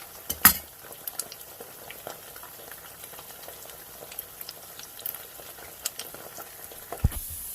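French fries frying in hot grease give a soft, steady bubbling sizzle, close and fairly quiet, with a few clinks of utensils on a pan and no talking.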